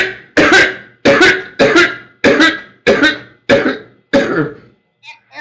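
A person coughs eight times in a steady rhythm, harsh and close, each cough trailing off before the next, with a faint vocal sound at the end.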